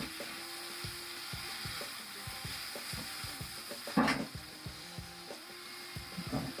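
Butternut squash, chicken and creme fraiche being stirred together in a pan, with soft scraping and stirring strokes over a steady background sizzle and one louder clatter partway through; no talking.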